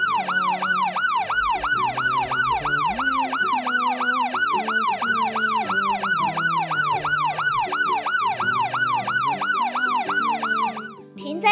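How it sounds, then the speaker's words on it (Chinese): A toy police car from a PAW Patrol set plays a loud, continuous wailing electronic siren, its pitch sweeping rapidly up and down in a steady rhythm with a melody tone underneath, close and dominant until it cuts off at the end. "大警车出发喽"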